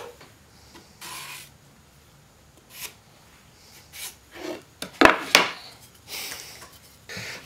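A piece of wood is cut to 1 inch by hand in short, separate rasping bursts, quiet and close, with a couple of sharper knocks partway through.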